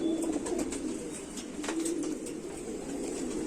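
Tested pigeons of old Sialkoti stock, a home-bred pair, coo repeatedly in soft low murmurs close by, with faint chirps over a steady background hiss.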